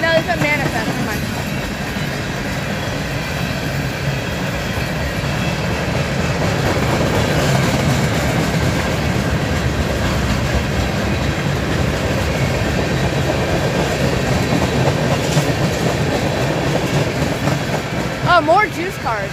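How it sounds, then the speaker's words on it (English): BNSF freight train passing close by, a loud steady rumble with clickety-clack of wheels on rail joints throughout and faint wheel squeal near the end, while someone speaks briefly. "Is this the juice train? No, it's a Bnsf."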